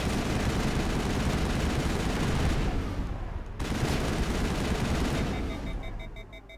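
Continuous rattling bursts of gunfire from a Mass Effect firefight fill the scene, loud and dense, with a brief pause partway through before the shooting resumes.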